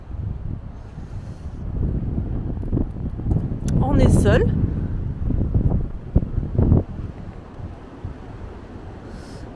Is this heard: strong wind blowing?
yes